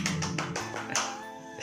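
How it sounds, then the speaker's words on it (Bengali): A few sharp hand claps sound in quick succession, fairly close and loud, with a sustained tone lingering underneath between the claps. "এখানে পুছনে এত দূরে দাঁড়িয়ে হাততালি মারেছে"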